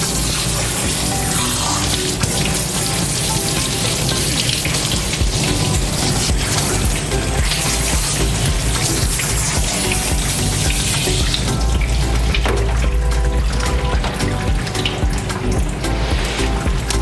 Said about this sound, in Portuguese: Nós vamos enxaguar bem esse produto para partir para a segunda